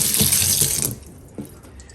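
A silver coin is rinsed under a running tap, water gushing loudly and close for a moment before cutting off, leaving a faint drip and splash.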